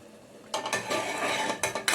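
A metal lid set onto a cooking pot of vegetable curry, giving sharp metallic clanks and scrapes that come in a few close, separate bursts after a quiet start.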